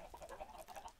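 Chickens clucking in the Minecraft video game, a run of short, repeated clucks close by, steady and fairly quiet with no talk over them.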